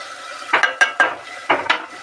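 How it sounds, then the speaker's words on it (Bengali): Mutton being stir-fried (kosha) in a pan: a handful of sharp scraping and clanking strokes of a spatula against the pan, in quick uneven bursts over a faint quiet background. "এভাবে আরও কিছুক্ষণ কষে নিলাম"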